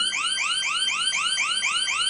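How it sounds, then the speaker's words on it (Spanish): A smart wall switch's alarm scene sounds a rapid, steady series of rising electronic chirps, loud and close, repeating about four times a second with no voices. "Y la alarma se activa. Y va a sonar, en este caso, cuatro veces"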